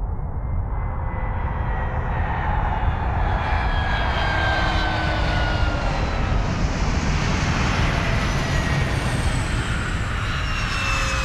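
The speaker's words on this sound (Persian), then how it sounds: "پرواز 581 از بارسلون همکنون به زمین نشست." Airplane landing, its engines a loud, steady roar with rising and falling whining tones sweeping through, heard close and alone for the whole stretch.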